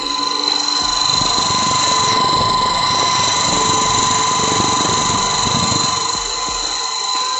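A coffee grinding mill machine runs steadily and loudly throughout, a continuous motor whine with sharp high-pitched tones over a dense grinding rumble, with no voices.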